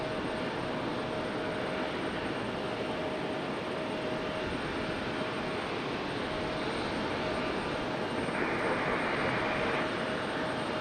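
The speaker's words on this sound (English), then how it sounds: "We do have American Eagles pushback, and here comes the other one around the corner here" An American Eagle airliner taxis at Raleigh-Durham airport, its engines giving a steady, broad jet roar and whine that holds constant from a moderate distance.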